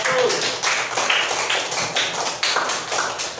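A classroom group claps for a presenting group, a dense, steady patter of many hands at moderate distance, lasting throughout with no talk over it.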